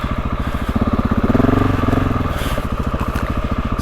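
A GasGas motorcycle ridden along a trail, its engine chugging in a steady, rapid pulse that swells briefly, then settles, loud and close throughout.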